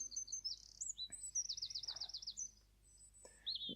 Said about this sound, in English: to the local birds.